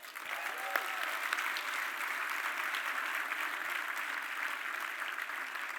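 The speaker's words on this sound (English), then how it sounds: "definitely worth another round of applause" An audience at the 2023 Service to the Citizen Awards, a ceremony honouring government digital services, applauds steadily: a sustained, even wash of clapping at close range that holds throughout, with no voices above it.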